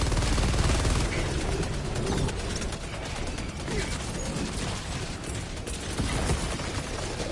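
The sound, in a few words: Stalwart machine gun firing in Helldivers 2 video game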